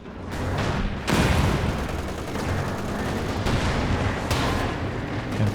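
A walking Stuka rocket barrage pounds down in Company of Heroes 2, a dense, continuous rumble of overlapping blasts and gunfire with a sharp loud impact early on and repeated bursts through the rest.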